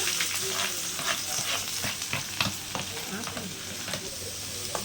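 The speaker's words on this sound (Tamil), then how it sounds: "இப்போ எல்லாத்தையும் சேர்த்து ஒரு எண்ணெயில் ஒரு பரட்டு பரட்டிக்கிடுவோம்" Onion, green chilli and curry leaves sauté in hot oil with popped mustard seeds while preparing an egg stir-fry. A loud, constant sizzle carries the scrape and clatter of a spoon stirring the pan.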